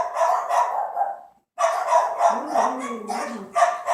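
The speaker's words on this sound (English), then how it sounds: "I'm messing with the dog barking sound effects." A recorded dog barking sound effect played to fool a dog: a loud run of close barks, a brief pause, then a denser volley of barks with a lower tone beneath.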